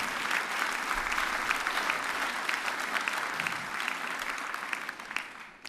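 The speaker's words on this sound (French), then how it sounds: "On peut l'applaudir." Steady audience applause fills the hall for the champion of round two of a game show at a concert, a dense, even wash of many clapping hands heard alone without speech.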